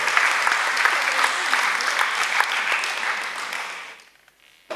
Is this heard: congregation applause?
yes